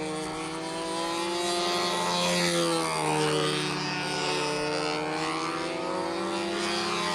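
A model airplane's propeller engine drones at a flying event, a steady buzzing whine that rises and falls in pitch as the plane passes, loud and continuous with no talk.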